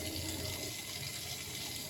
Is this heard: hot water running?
yes